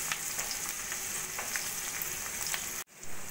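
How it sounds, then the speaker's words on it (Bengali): Thinly sliced onion fries in hot oil with kalo jeere, a constant close sizzle with crackling pops, cut by a sudden brief drop near the end before the hiss returns. "দিয়ে পেঁয়াজটা একটু সোনালি করে ভেজে নেব"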